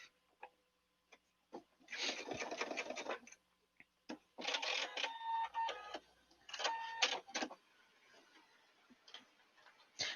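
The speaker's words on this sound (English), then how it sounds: "I like this sewing machine because it cuts the thread" A sewing machine with an automatic thread cutter runs in several short bursts of rapid mechanical stitching, separated by quiet pauses and small clicks, while finishing a fabric mask.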